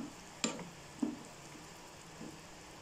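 Cut potatoes being mixed in a frying pan for potato masala: a faint background hiss broken by a few soft scraping clicks at irregular intervals.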